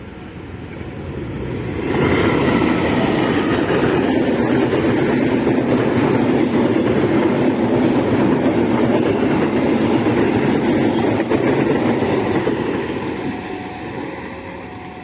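A diesel train hauled by a CC204 locomotive rumbles into Mojokerto station close and loud, wheels clacking steadily over the rails as it rolls past for several seconds before easing off.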